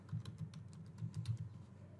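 Fingers type a workflow name on a computer keyboard, a quick run of light clicking keystrokes in two short bursts, close and crisp with no voices.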